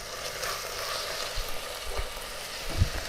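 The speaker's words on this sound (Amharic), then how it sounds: "ያደቀቅነውን ዝንጅብልና ሽንኩርት እንጨምራለን" Crushed ginger and onion dropped into a hot pot of simmering meat stew, giving a steady sizzle with a few soft stirring thumps underneath.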